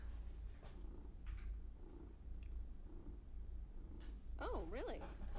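A cat purring in a video game: a low, continuous rumbling purr sits under the whole stretch, fairly faint, with a rising and falling cat-like call near the end.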